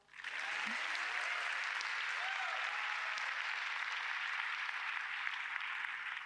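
A round of applause at a women's sport awards event, broad dense clapping from a large crowd, steady and sustained, heard at a moderate distance with no talk over it.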